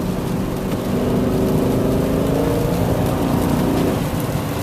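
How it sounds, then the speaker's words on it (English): A manual transmission car accelerates through its gears, the engine note holding a loud steady drone with a slight rise and a brief dip as the clutch comes out, heard from inside the cabin. "Then we let the clutch back out as we slowly give it some gas."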